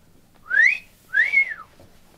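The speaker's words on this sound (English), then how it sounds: "He gave a whistle" Two rising whistled notes from the sleigh driver calling to his reindeer team, each about half a second long, clear and alone with a short gap between them.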